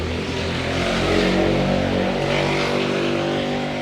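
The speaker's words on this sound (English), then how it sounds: "just heard a motorcycle go by" A motorcycle passes by outdoors, a steady, loud engine drone that swells slightly and fades over a few seconds with no talking.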